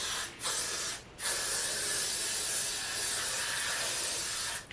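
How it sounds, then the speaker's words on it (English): Hair spray hisses onto hair in one short burst, then a long, steady, close spray after a brief pause. "And then, so we're just gonna spray."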